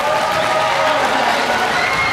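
A school audience at a Veterans' Day assembly gives the choir loud, sustained applause, a dense wash of clapping mixed with crowd noise and cheering voices.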